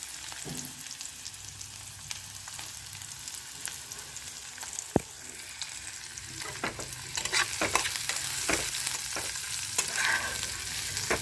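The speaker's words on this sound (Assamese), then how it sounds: "অলপ নহৰু দি এইখিনি অকমান ভাজি লম" Garlic fries in a pan with a steady soft sizzle, punctuated by sharp clinks and scrapes of a spatula stirring, growing busier toward the end; nobody speaks.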